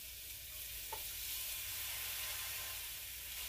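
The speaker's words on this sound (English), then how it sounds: "Over medium heat, you're gonna cook your sausage." Sausage frying in a pan over medium heat gives a quiet, steady sizzle with a soft hiss throughout and one brief tap near the start, with no voices.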